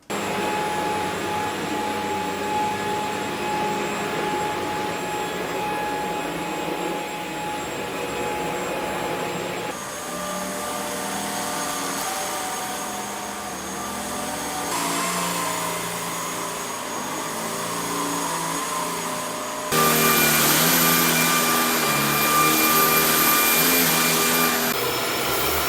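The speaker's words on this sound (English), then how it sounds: "Here's what each vacuum sounds like on each mode" Three Shark Stratos vacuum cleaners run in turn through their power modes, a steady high-pitched motor whine with airflow hiss that steps up in loudness with each mode, the last setting clearly the loudest, no talking.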